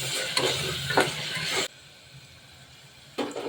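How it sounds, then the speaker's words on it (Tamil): Tomatoes with salt and turmeric sauté in a hot pan, a close crackling sizzle with scraping stirs, broken by a brief quiet stretch before the sizzling resumes. "இப்போ இதெல்லாம் சேர்த்து ஒரு 2 நிமிஷம் வதக்கலாம்"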